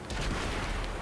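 Heavy tank gun fire in World of Tanks, a Conqueror in play: a broad, loud burst of booming blasts across the whole second, dense and rumbling without a clean single crack, with no talk over it.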